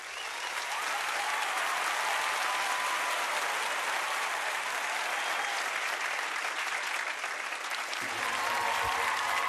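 Loud, sustained applause from a TV studio audience welcoming an X-Factor judge and hitmaker, dense clapping filling the whole stretch, with music starting near the end.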